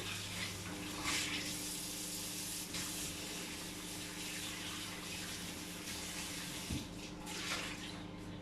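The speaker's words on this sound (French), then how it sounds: "allez rincer à l'eau tiède son moule silicone à moelleux" A silicone muffin mould being rinsed under lukewarm tap water, a steady faucet stream splashing close in a sink, with shifting spray bursts as the mould is turned; no voices.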